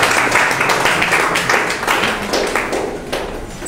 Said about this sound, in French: Applaudissez pour les philosophes